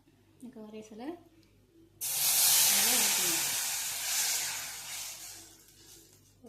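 Tamarind extract poured into hot ginger thokku in a pan gives a sudden loud hissing sizzle that swells, holds for several seconds and slowly fades, coming right after a short stretch of talk.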